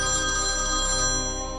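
A phone ringtone rings steadily and loudly up close while calling the lineman about a power cut, a continuous electronic melody with no voices over it.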